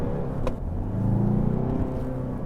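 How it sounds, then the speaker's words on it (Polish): Citroen C5 Aircross diesel engine running steadily, a low, moderately loud droning hum with a faint rise in revs and one brief click near the start, heard alone. "silnik diesla zawsze wydaje z siebie więcej hałasu"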